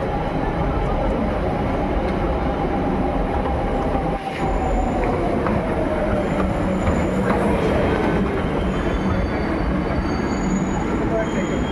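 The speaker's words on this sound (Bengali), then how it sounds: "তো আমাদের মেট্রো ট্রেন চলে এসছে।" A metro train pulls into a station with a loud, steady rumble and rail roar, a rising squeal of wheels along the track and a brief clunk partway through, all continuous and close.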